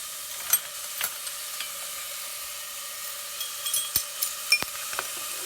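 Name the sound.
chopped garlic sizzling in pan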